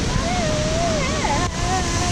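Waterfall at the Grutas de Tolantongo caves, a steady broadband rush of falling water that holds loud and unbroken throughout, with a voice talking over it.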